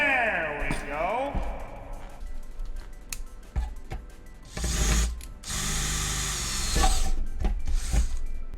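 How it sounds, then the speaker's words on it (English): A handheld power drill running at a desk, with a rising and falling motor whine followed by loud bursts of grinding as it bites into material, close up. "Maybe I should put something under it so I don't drill directly into my desk"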